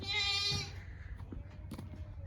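A goat on a farm lets out one clear, fairly close bleat at the start, followed by quieter shuffling and low background noise.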